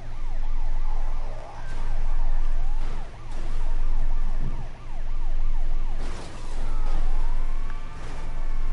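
A wailing ambulance siren in the video game GTA cycles up and down repeatedly and loudly, with a low engine hum underneath and a few sharp bursts of noise.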